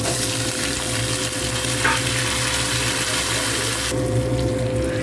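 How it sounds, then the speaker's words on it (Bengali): Fried tender pumpkin goes into a pan of hot oil with nigella seeds and chillies and is stirred, a continuous close sizzle over a low steady hum, with a brief scrape midway and a softer frying texture near the end. "এবার এই কুমড়ো ভাজাটা এর মধ্যে দিই"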